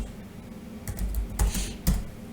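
Typing on a computer keyboard, a few close, crisp key clicks and thumps spread over a couple of seconds against a quiet room background.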